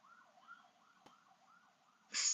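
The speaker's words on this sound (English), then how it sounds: "It's hard to think with all these horns and sirens everywhere." A faint siren wails up and down in a steady cycle, distant and quiet, with a brief sharp noise burst at the end.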